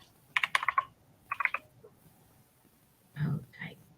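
Quick bursts of computer keyboard typing come close and clear, in two short runs of clicks, followed by a brief murmured voice.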